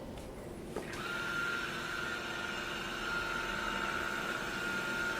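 A Roomba Vac Essential robot vacuum starts up after a short click, then settles into a steady, faint whirring hum with a constant motor tone that continues alone.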